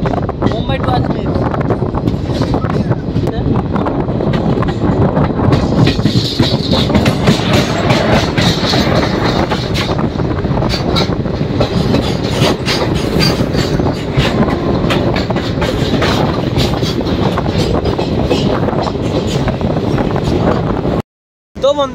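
Garib Rath Express train running from Mumbai to Ajmer, a loud sustained rumble with rhythmic clickety-clack of wheels and wind buffeting, recorded close aboard or beside the moving carriages, with a brief dropout near the end.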